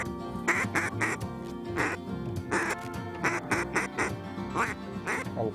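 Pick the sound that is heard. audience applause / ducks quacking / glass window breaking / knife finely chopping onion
ducks quacking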